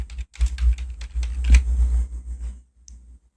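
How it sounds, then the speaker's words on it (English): A quick burst of keystrokes on a computer keyboard types a short word into a Windows 11 search box, with close clicking taps bunched over about two and a half seconds before quiet. "then you need to type Control Panel"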